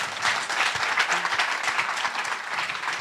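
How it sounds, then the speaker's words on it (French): An audience in a meeting room claps to encourage a man taking the microphone, a fairly loud crowd applause with some distinct nearby claps, lasting about three seconds. "On peut l'applaudir quand même pour l'encourager."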